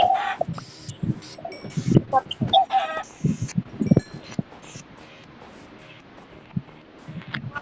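Game-style chicken clucks in short bursts, mixed with busy electronic effects and a scattered background score.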